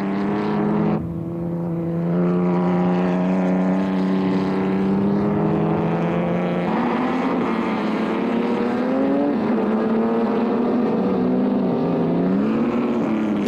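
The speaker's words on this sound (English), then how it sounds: "feeding on the power of the 2-litre engine, which at that time was producing around about 300 brake horsepower." A 2-litre ERA racing car at full throttle, its engine holding a loud, steady droning howl with rising pitch shifts as it works through the gears, close and continuous with no talk.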